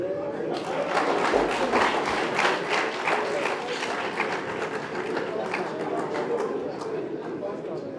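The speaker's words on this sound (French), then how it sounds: "Pardonnez, mais on l'applaudit." Audience applause at the opening ceremony of a seminar in Benin, sustained crowd clapping that rises early and then holds steady, with faint voices mixed into the room.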